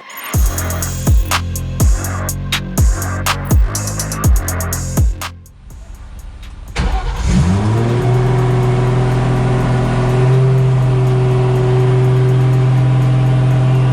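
A GT86 car fitted with an S58 engine cranks with rhythmic starter pulses, catches after a pause, then roars up and settles into a loud, steady revving idle.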